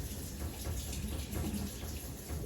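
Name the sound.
water running from a faucet while washing hands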